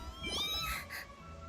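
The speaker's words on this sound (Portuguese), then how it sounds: "Gatinho com 2 rabos." Cat meowing in Genshin Impact, a single drawn-out, rising and falling meow over a faint low background hum, fairly quiet.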